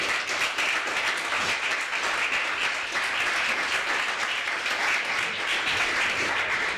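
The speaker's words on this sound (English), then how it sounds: "Let's give a big round of applause for Alice." An audience applauds steadily throughout, a dense wash of many hands clapping with no pauses or voices.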